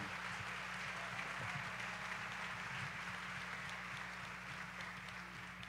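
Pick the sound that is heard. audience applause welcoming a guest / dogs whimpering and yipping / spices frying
audience applause welcoming a guest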